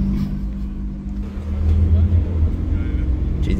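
GT3 race cars pass on the Nürburgring, their engines a steady low rumble that swells louder midway through, with voices talking over the traffic noise.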